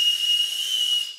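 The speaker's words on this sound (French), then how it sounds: "Ah, les sifflets." A toy whistle from a retro candy box is blown in one steady, shrill, high-pitched tone with airy hiss, held for about a second before trailing off, loud and close.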